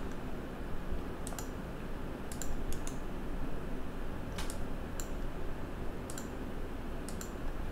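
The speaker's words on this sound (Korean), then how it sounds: "마지막은 W 눌러서 완료." Sharp, light computer keyboard and mouse clicks come at irregular intervals, about nine in all, over a quiet steady room hum while a speaker model is built in Maya.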